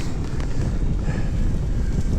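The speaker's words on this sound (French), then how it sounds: "aujourd'hui il n'y a pas de vent, il y a une légère brise." Light breeze buffeting the microphone while mountain biking outdoors between Godewaersvelde and Poperinge, a steady low rumble of wind noise throughout with no talk.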